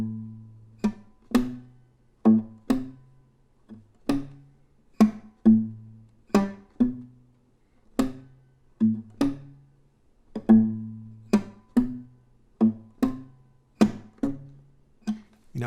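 Slow blues guitar with single-note licks played over a walking bass line, plucked notes ringing out one by one at an unhurried pace, close and clear with no talking.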